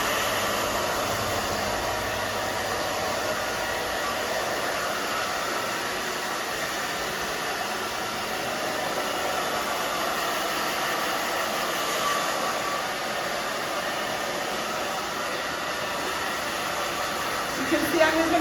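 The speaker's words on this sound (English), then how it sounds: "now we just dry the back, just down, back and forth." A hair dryer blowing steadily while styling a short pixie cut, a loud continuous rushing whoosh close by that barely changes over the whole stretch, with no talking over it.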